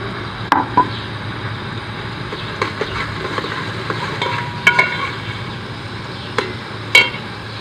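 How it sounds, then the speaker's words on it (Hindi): Crushed garlic sizzles in a hot pan, a steady soft frying hiss broken by sharp clinks and taps of a utensil against the pan, close and clear with no talking. "अब हम इसमें डालेंगे ये कूटा हुआ लहसुन"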